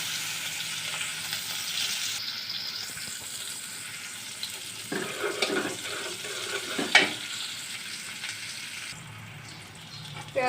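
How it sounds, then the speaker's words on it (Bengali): Chopped onions fry in oil in a pan for a fish and bottle gourd curry, a steady close sizzle with intermittent stirring scrapes, no voices. "পেঁয়াজটা আমার একটু ভাজা হয়ে গেছে"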